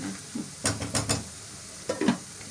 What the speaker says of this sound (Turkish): şuradan azıcık salça koyacağım. Çok az. Şöyle bir tatlı kaşığı kadar. Bundan kavuracağım.